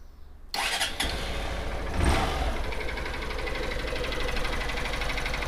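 A Honda CB125F motorcycle engine, just after valve adjustment, cranks and catches after a short starter burst, then settles into a steady, close idle with a light mechanical clatter.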